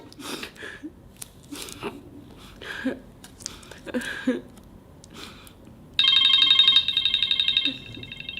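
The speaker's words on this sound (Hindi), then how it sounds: "गुड्डू का फोन आया, गुड्डू का फोन आया मेरे पास" An electronic phone ringtone chimes loudly for a couple of seconds near the end, after scattered crunching and rustling noises.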